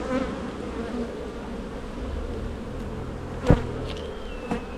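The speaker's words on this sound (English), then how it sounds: "there are a lot of bees in here as well" Honey bees hum in a dense, continuous drone from an open hive of a strong colony, close and steady, with a faint knock or two of frames being handled.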